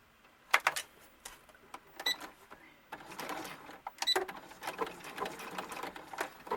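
A sewing machine stitches a tiny doll bustier, its needle chattering in short bursts and pauses, then a longer steady run of rapid clicking, close and fairly quiet.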